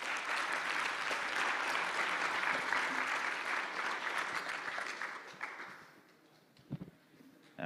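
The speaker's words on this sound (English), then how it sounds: "A round of applause." Applause from a conference audience at a ZK Summit in Lisbon, a steady wash of many hands clapping that fades out over the last seconds, with no talk.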